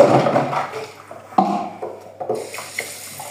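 Water runs from a household tap in an uneven, splashing flow with several clattering knocks and surges, close by and with no talking.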